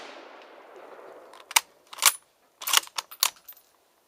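Gunshots fired at pop cans on an outdoor shooting range at about 17 yards, a string of sharp cracks in uneven bursts of two and three, fairly close, with faint metallic pings and no talk.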